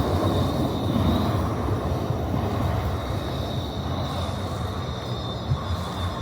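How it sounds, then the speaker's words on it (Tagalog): A train at a terminal station gives a steady, dense rumble with a faint high whine above it, continuous and fairly loud throughout with no clear talk. "ayun ang tren nila rito"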